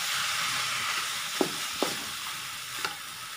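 Chicken pieces frying in a pan for curry, a steady close sizzle with a few sharp scraping clicks from stirring spread across the clip, no voices.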